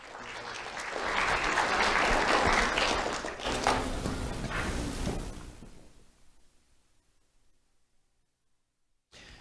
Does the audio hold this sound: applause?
yes